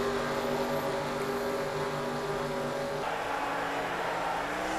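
A pack of NASCAR race cars taking the green flag at Nashville in a racing video game, steady loud engine drone with layered harmonic whine that shifts pitch partway through as the field accelerates.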